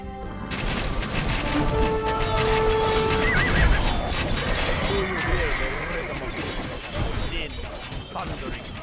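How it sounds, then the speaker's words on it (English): Horses neigh and whinny loudly amid galloping hooves and clashing combat in Age of Empires II, several overlapping whinnies rising and falling over a busy battle din, with a voice talking. "Thundering hooves."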